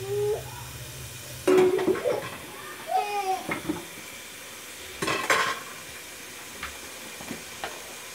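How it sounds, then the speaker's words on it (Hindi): Minced meat keema frying in a pan for keema matar pulao, with a soft sizzle and a few bursts of spatula stirring and scraping, close by, with quieter gaps between strokes. "थोड़ा सा इसको भूनेंगे हम"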